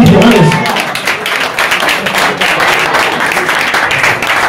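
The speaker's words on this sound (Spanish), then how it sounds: "un fuerte aplauso, que son incondicionales." Live concert audience in a Spanish-language venue applauding loudly, a dense steady wash of clapping that fills the whole stretch with a few shouts mixed in.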